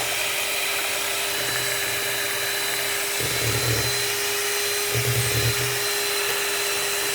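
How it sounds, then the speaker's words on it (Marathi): Electric blender whirring steadily through a chocolate ice cream mixture, a constant high motor whine with two brief deeper surges as the load shifts, close and loud, no talking. "अशा प्रकारे आपण याला ब्लेंड केलं आहे आणि छान त्याला कलर आलेला आहे."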